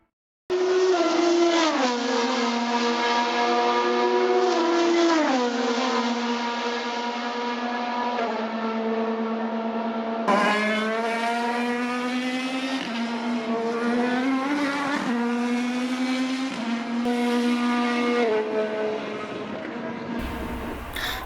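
Open-wheel race cars, IndyCar support series such as Indy Lights, Pro 2000 and USF 2000, scream loud and near at Road America, high-revving engines rising and falling through gear changes, with a second car joining the howl midway.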